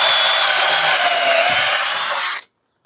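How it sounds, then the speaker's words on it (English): Kreg Rebel pocket hole joiner drilling pocket holes: a loud, steady high-pitched drill whine for about two and a half seconds, then stopping abruptly into silence with a faint click. "And now we can drill."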